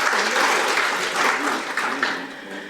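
Steady applause from a forum audience at a Korean National Assembly ceremony for maritime officers, a dense continuous wash of clapping that holds level and tapers slightly near the end, with some voices mixed in.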